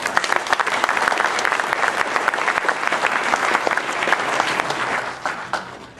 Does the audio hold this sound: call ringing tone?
no